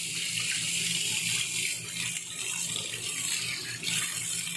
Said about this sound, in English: Wash it under the running water until all this black is coming out.